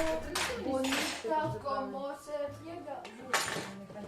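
Dishes and cutlery clink and clatter in a home kitchen while dinner is prepared, a few bright metallic chinks standing out over a soft room backdrop as people talk nearby.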